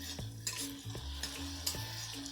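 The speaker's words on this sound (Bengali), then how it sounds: "একইভাবে ক্যাপসিকামটাকেও ভালোভাবে মশলার সাথে নেড়ে চেড়ে আমি ভেজে নেব।" Capsicum is stirred and fried with spices in oil in a pan, with a continuous close sizzle and a few rhythmic scrapes of the spoon, brief and moderately quiet.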